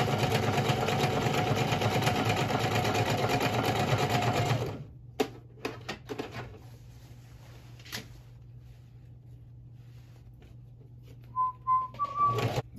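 A sewing machine stitches steadily along a fabric edge, loud and close for about five seconds, then stops, leaving a low motor hum and a few light clicks and taps.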